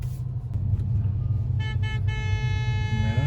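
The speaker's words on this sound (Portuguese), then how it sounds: "o pessoal buzina mesmo, né?" Car horns honk several times, one long blast sustained near the end, over the steady rumble of nearby traffic.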